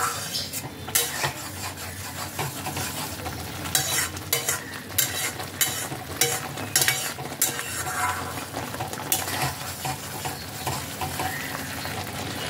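Pumpkin leaves frying in hot oil, with a steady loud sizzle and repeated scraping and clattering of a spatula in the pan throughout.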